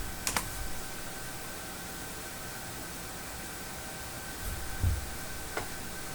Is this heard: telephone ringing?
no